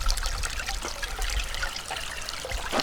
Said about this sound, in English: Here on top we have the feed water valve, feeding water into the funnel.